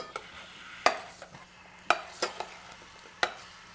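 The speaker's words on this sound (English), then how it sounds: "I'm adding the red onions, and then we cook it down for about 2 minutes." Red onions cook in a pan for couscous, a soft sizzle under sharp scraping and clinking strokes of a utensil against the pan at irregular intervals, close and quiet, with no speech.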